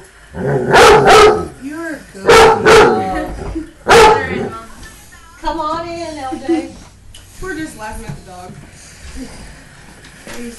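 A Vizsla dog gives three loud, spaced barks up close, followed by softer whining and whimpering yips, with people talking over parts of it indoors.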